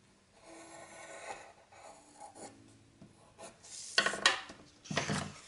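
Pencil tracing an outline around a metal cutting die on paper or card for scrapbooking, heard as quiet intermittent scratchy strokes that grow busier and louder toward the end.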